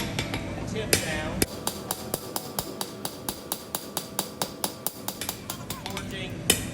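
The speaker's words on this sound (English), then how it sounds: "What I'm going to do, I'm going to start here at the tip. Tip forging" Blacksmith hammer forging down the tip of a knife blade, a long steady series of sharp ringing metallic strikes at an even quick pace, close and loud, with brief talk before it starts.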